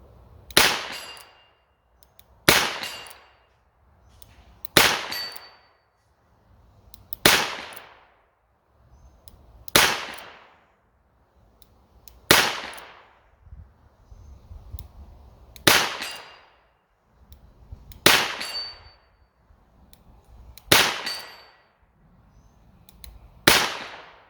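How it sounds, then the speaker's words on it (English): Ten double-action shots from a Smith & Wesson 617 ten-shot .22 Long Rifle revolver at an 8-inch steel gong, each crack followed by a ringing metallic clang that fades away, spaced about two seconds apart with no talking. "we're going to shoot at one of our 8-inch steel gongs from high caliber targets"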